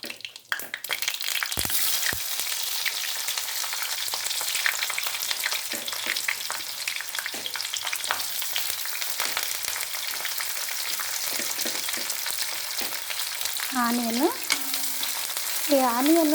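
Onions frying in hot oil with tempering spices in a pan, a steady dense sizzle running throughout with a few faint clinks and scrapes and some brief whistly tones near the end.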